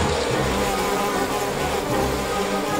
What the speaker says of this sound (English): Where are all these bees coming from?